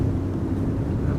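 Strong storm winds of Storm Benjamin buffet the microphone at Amsterdam Schiphol Airport, a loud, steady low roar with gusty rumble and no pauses.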